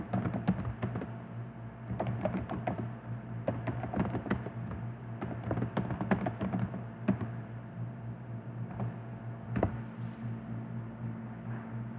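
Someone types a user ID and password on a computer keyboard, a run of close, quick key clicks in uneven bursts with short pauses, over a steady low hum.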